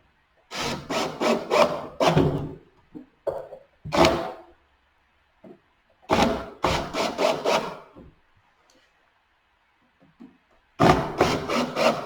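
Screws are snugged into a wooden pet feeding station in several close bursts of quick rasping, grinding strokes, each lasting a second or two and separated by near silence.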